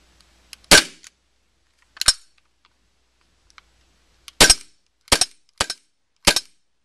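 A Tactical Force Umarex Glock gas blowback CO2 airsoft pistol is test-fired, with about seven sharp, crisp cracks in irregular single shots and quick pairs, close and loud against silence.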